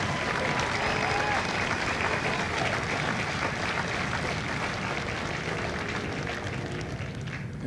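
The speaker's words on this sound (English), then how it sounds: "please join me in a big round of applause for the families of Delta Company" A large crowd at a Marine Corps recruit graduation applauds the families of Delta Company, a dense, sustained wash of clapping from many hands at steady loudness, spread wide and somewhat distant, with a faint voice under it.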